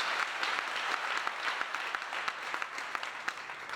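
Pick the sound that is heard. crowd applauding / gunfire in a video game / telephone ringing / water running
crowd applauding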